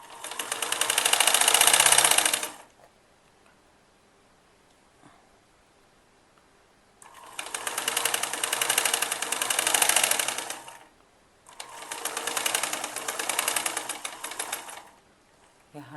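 A sewing machine stitches the side seam of an elastic baby frock in three steady whirring bursts of a few seconds each, separated by pauses, loud and close.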